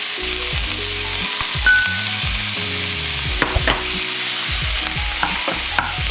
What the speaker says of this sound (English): Give it a bit of a fry.